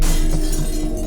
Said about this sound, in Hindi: कुछ कांच के टूटने की आवाज आई थी वहां से